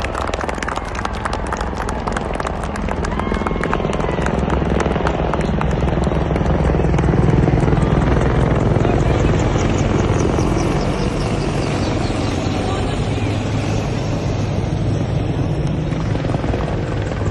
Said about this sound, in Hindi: हर मिशन का हिस्सा बन रहे ध्रुव एवं रुद्रा हेलीकॉप्टर